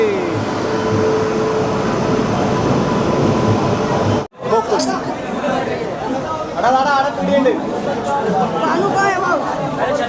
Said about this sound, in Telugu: ఇగో ట్రైన్ వెళ్తుంది.